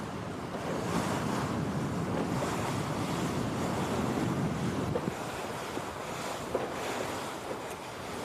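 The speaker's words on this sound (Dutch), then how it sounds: "En de wind die blijft stevig staan, hè?" Strong, steady wind rushes across the microphone during a traditional skûtsje sailing race at Lemmer, with a broad continuous roar and a hint of water and waves beneath it and no talk.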